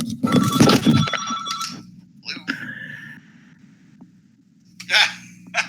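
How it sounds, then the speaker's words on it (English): An incoming call's telephone bell rings in short bursts separated by pauses, loud and close, with a person talking briefly at the start. "Oh, you got a phone call."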